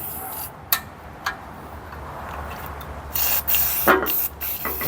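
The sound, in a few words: spraying lubricant on vintage Firestone lawnmower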